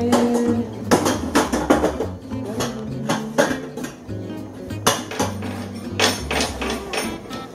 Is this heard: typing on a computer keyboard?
no